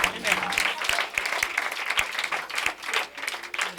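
A church congregation applauds continuously at an evangelical worship service, a dense patter of clapping running under loud speech throughout.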